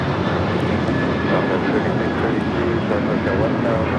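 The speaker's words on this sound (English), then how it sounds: "This is Alaska Airlines 1360 taking off to Los Cabos on the 737-800" An Alaska Airlines Boeing 737-800 jet takes off at LAX, bound for Los Cabos, as a steady, loud broadband engine roar that holds at constant strength throughout, with faint radio chatter in the background.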